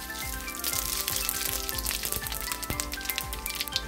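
Panch phoron spices hit hot oil for an olive pickle, giving a steady, dense crackling sizzle with scattered sharp pops, close and continuous without any talk.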